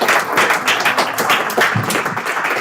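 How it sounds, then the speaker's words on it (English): Audience applause at a live cryptocurrency, ICO and blockchain law event, a dense, steady wash of many hands clapping at close range for nearly three seconds, loud and continuous with no talk over it. "So one more round of applause."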